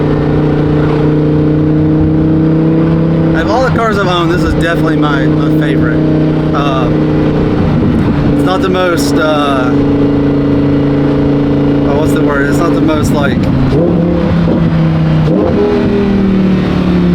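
A Lamborghini engine idles and rumbles steadily, with a few short rising revs standing out in the middle, while someone talks over it close to the microphone.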